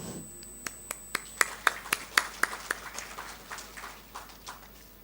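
Audience applause at a spiritual and motivational gathering: a run of distinct, sharp single claps in a steady rhythm that build briefly, then thin out and fade, heard alone in a reverberant hall.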